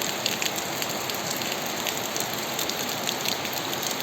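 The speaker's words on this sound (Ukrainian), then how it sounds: "Дощик, дивіться, дощик такий йде." Steady autumn rain falls outdoors in the countryside, a dense, even patter of drops on surfaces, close and continuous with no talk.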